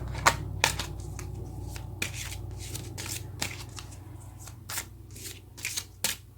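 Cards riffle and snap in repeated quick bursts, close and crisp, over a low steady background hum.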